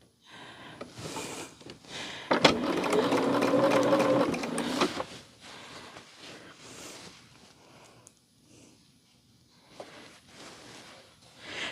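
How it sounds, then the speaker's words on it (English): A sewing machine runs in a steady burst stitching fabric for a couple of seconds, loud and close, surrounded by quieter handling noises and pauses. "I just have to find the end of my fabric so I know where I'm sewing at."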